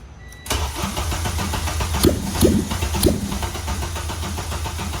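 A Honda K24 engine swapped into a Civic EG cranks and fires up after a near-silent start, settling into a loud, steady rumble with a few sharp revving bursts around the middle.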